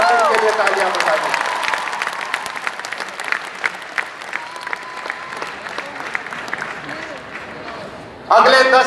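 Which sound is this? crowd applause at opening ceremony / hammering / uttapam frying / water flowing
crowd applause at opening ceremony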